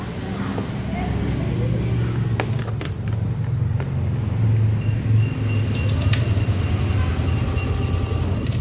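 A motorcycle's electric starter cranks steadily on an engine with weak ignition that makes it hard to start, giving a continuous low mechanical churning up close, with voices in the background.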